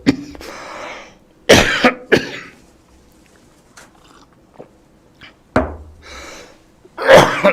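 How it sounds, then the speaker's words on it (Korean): Several harsh, close coughs and throat-clearing bursts from someone speaking on a Korean talk show, spaced out with short pauses and a loud final cough. "제가 감정이 솟구치면 기침을 합니다."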